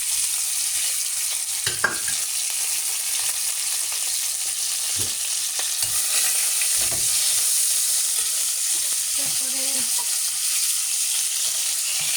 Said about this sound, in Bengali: এবার আমি এই তেলে পেঁয়াজ